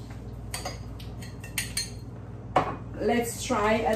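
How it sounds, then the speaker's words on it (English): 10-grain hot cereal stirred into a pot of water brought to a boil: light scraping and clinking of a utensil against cookware, close and soft, with a steady low hum underneath. "I will go ahead and mix my 10 grains hot cereal"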